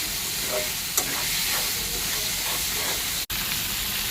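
Taki fish frying in a pan with only salt, a loud continuous hissing sizzle with faint spatter pops throughout, close by and alone.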